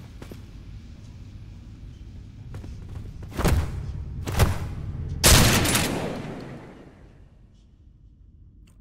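Suppressed gunfire in the first-person shooter Trepang2: three loud, heavy shot bursts ring out over a low in-game rumble, the last one longest and fading slowly, with no talking.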